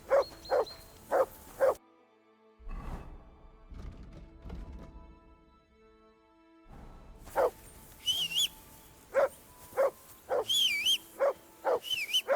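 A dog named Mutt in the medieval game Kingdom Come: Deliverance II barks in short, evenly spaced bursts, then falls quiet before barking again over music and ambient game sound.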